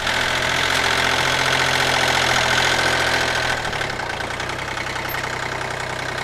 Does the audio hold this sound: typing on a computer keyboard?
no